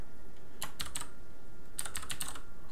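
Someone types on a faulty computer keyboard in two quick bursts of close, crisp key clicks over a quiet room hum, with no talking.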